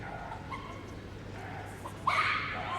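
A dog barks and yips during an agility run in the Kennel Club British Open Final at Crufts. The barks are faint and distant in a busy arena, with a louder burst near the end.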